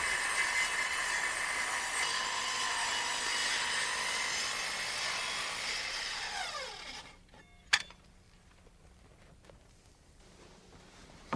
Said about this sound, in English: I have to be careful as I start this plunge cut